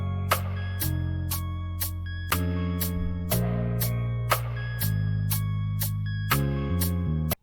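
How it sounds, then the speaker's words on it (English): Bass line pattern in a music production of a PvP song, with a repeating sequence of low sustained notes that step between pitches under bright percussive ticks, steady and loud, with no talking. "All right, the bass sounds like this."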